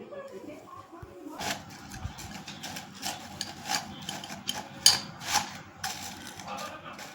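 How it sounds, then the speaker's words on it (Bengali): Homemade potato chips tossed with spices in a bowl, giving a run of dry rattling, scraping bursts that come and go at close range. "তাহলে এবার আমি মশলাটা দিয়ে ভালো করে ঝাঁকড়ে নেব"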